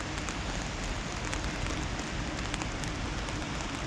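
Steady rain falls on a hillside trail above Kotor, a dense, even hiss of drops on surfaces that fills the whole stretch without a break, close and constant, with no talk.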